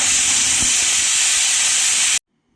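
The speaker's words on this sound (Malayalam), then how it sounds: "ചെറിയ ബർണറിൽ ഫുൾ ഫ്ലെയിമിൽ വെച്ച് 2 വിസിൽ വന്ന് സ്റ്റവ് ഓഫ് ചെയ്യാം" A pressure cooker on a small burner at full flame, cooking chicken for a curry, lets out a loud, steady rush of steam that hisses continuously for about two seconds and then cuts off abruptly.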